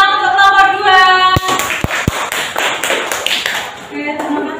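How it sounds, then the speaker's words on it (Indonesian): An audience applauding a group with a burst of clapping, a few sharp taps standing out, while a voice talks over the start. "Tepuk tangan untuk nomor 2."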